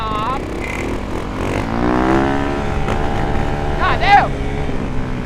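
A new Yamaha YZ dirt bike revs in an outdoor lot, its engine pitch rising and falling through several throttle blips, close and mid-loud, with people talking and exclaiming over it.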